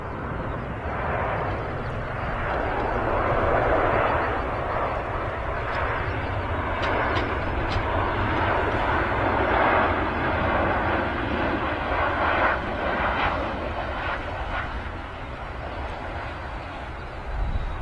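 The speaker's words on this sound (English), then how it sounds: "Ryanair 737-800 on the arrival here" Ryanair Boeing 737-800 airliner arriving at Manchester Airport, a broad sustained jet engine roar that stays steady and fairly loud throughout, heard outdoors from a distance.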